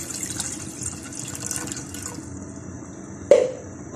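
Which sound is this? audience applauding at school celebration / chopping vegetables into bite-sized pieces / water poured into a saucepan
water poured into a saucepan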